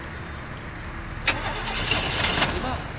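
A car engine is cranked but fails to catch. A sharp click of the key is followed by a strained, sputtering whir that keeps going without firing, with tense voices in the car.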